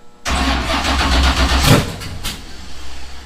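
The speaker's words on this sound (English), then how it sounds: "Lift pump, pump number 1, and fire." A 427ci LS V8 engine cranks and fires on its first start attempt, catching with a loud, uneven rumbling burst close to the microphone, then settles briefly before fading, with no talk.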